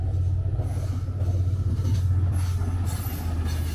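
Train 715, the Kapotaksha Express from Khulna to Rajshahi, rolls past with a heavy, close, continuous low rumble and faint wheel clatter.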